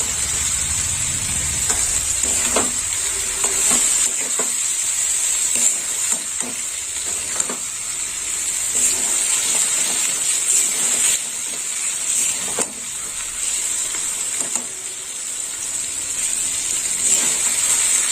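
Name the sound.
stirring fried eggplant sizzling in oil in a pan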